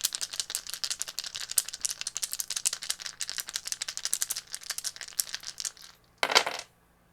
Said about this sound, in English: So let's go ahead and throw the dice of resonance.